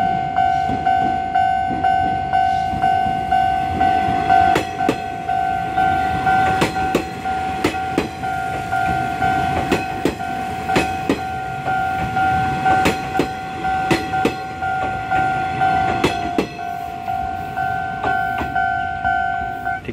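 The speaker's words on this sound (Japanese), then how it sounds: "ま天神行き普通列車" A Nishitetsu local train bound for Tenjin rolls loudly past a level crossing, its wheels clacking in steady rhythm over rail joints while the crossing's warning bell rings continuously throughout.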